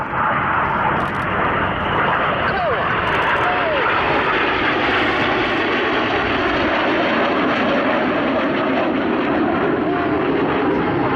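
Red Arrows display team jets roll overhead at the Cosford Airshow, a loud continuous engine roar that fills the whole stretch, with a public-address commentator talking over it.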